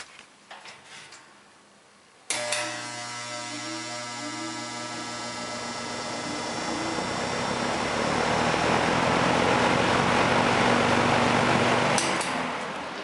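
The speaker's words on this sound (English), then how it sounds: "here's the startup sound" An Eskimo single-speed box fan switching on close to the mic, with an abrupt click, then a steady whooshing whir and motor hum that swells as the blades come up to speed, ending in another faint click.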